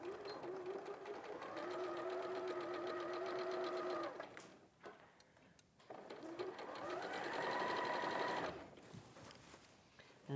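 A domestic sewing machine stitching a dress, a steady close whirring hum that runs for several seconds, pauses briefly, then runs again, with someone talking over the machine.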